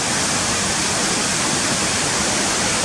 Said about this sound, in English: But it's a beautiful waterfall